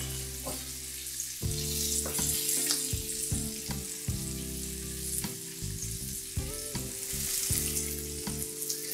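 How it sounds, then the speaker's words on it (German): Potatoes seasoned with salt, pepper and paprika fry in olive oil in a preheated pan, a steady close sizzle and crackle with occasional stirring scrapes and no talking. "Die brate ich jetzt so lange an, bis sie eine schöne Farbe bekommen haben."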